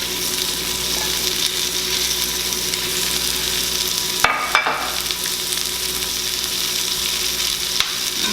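Sliced onions sizzle steadily in butter in a pan, a constant loud fry hiss with a couple of brief clatters midway and near the end.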